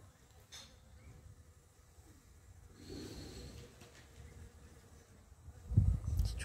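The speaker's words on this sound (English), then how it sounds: "You better be careful, little honeybee." Honeybee buzzing around the entrance of a native stingless bee hive, a faint, steady drone close by in quiet outdoor air, ending in a louder low rumble of handling or wind.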